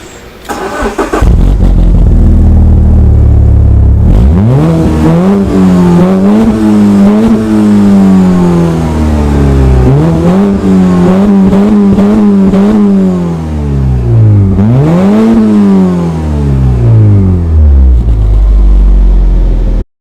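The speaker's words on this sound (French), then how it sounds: "écouter et surtout déguster les vocalises italiennes de ce petit moteur 4 cylindres" A small four-cylinder engine in an Alfa Romeo GTV JTS (916) revs loudly up close, its pitch swelling and falling in several blips with an idle rumble between them.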